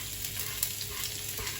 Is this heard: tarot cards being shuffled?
no